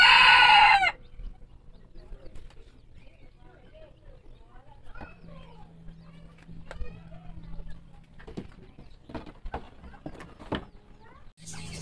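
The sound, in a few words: brooding hen and chickens clucking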